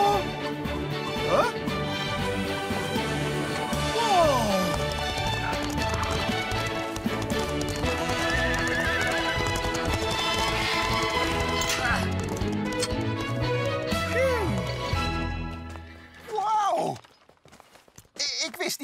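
In a Bob the Builder cartoon, a horse's hoofbeats clip-clop steadily under busy music, with brief whinny-like calls. Near the end the sound drops to near silence, then rises in a short final burst.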